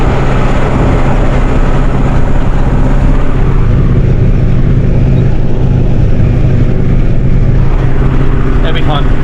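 Valtra A95 tractor diesel engine running steadily while being driven, a loud, close, continuous low rumble throughout with a brief rattle near the end.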